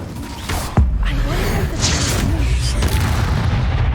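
A fire spell lands in Hogwarts Legacy with a sudden deep boom, followed by rumbling, crackling combat noise and creaking mechanisms, loud and close.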